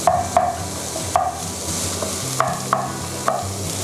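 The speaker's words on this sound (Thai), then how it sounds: "ก็เหมือนเดิมผัดให้หอม ใช้ไฟแรงปานกลางแล้วแต่ขนาดเลยค่ะ" Garlic and shallots with onion stir-fry in a pan over medium heat for Korean topokki: a steady soft sizzle broken by repeated sharp spatula scrapes and clicks, close by, with no talking.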